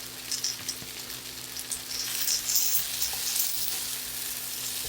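Potatoes, carrots and green, red and habanero peppers frying in a pan over medium-high heat, a soft continuous crackling sizzle with light popping, close and alone.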